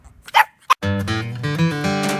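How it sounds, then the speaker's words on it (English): A dog gives two short, sharp barks close by, then after a brief gap a longer, louder run of vocal sound follows. "my dog's name is Rusty"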